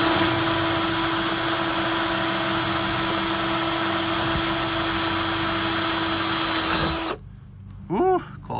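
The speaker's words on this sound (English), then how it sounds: "use the mud flap as a template to drill through the pre-existing trim panel" A power drill bores through a pre-existing plastic trim panel on a 2019+ Ram 1500 to mount a mud flap, whining steadily for several seconds before cutting out abruptly, followed by a brief squeak of movement.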